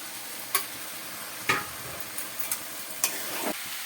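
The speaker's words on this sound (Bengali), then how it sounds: "এবার আমি এটা দিয়ে দিচ্ছি, ডুমুরটা সবটা দিয়ে দিলাম।" Figs tip into a pan of sizzling spice masala. A low, steady sizzle runs underneath, broken by a few scattered scrapes and taps of a spoon stirring, with no talking.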